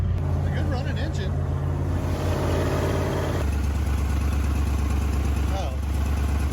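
A 1966 Chevy Nova II engine runs at a steady idle, a low, close rumble with a shift in tone partway through, while people talk over it.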